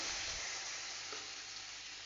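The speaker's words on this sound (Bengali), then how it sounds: "এই যে তেল গরম হয়ে গেছে রসুনগুলো দিয়ে দিলাম" Garlic cloves hitting hot oil in a pan for a vegetable curry with papaya, giving a steady, dense sizzle that holds for the whole stretch at close range, with no voices over it.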